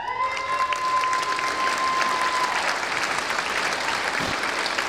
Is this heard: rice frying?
no